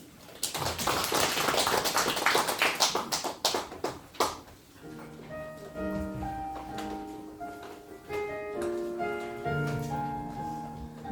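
A church congregation claps along in a steady rhythm through a hymn during worship, with dense, loud claps at first that thin out as sung and instrumental music takes over.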